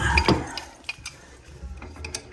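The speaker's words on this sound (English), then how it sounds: "Let's use my spud wrench. Let's see if we can spin it out." A spud wrench works against a stuck plumbing ground joint, giving close metallic clanks and scraping ratchety clicks with irregular bursts over a low background rumble, and no talking.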